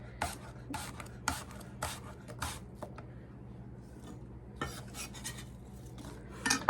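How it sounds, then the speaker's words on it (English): A spoon stirs cranberry sauce with cinnamon stick and citrus rind in a pot, making a quick series of scraping, clinking strokes against the pot, a pause, then another burst of stirring. "Let's give it a little bit of a stir."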